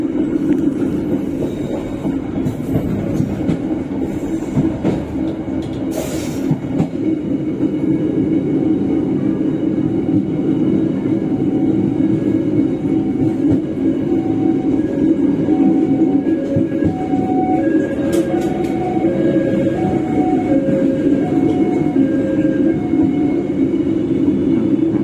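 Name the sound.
train running over switch points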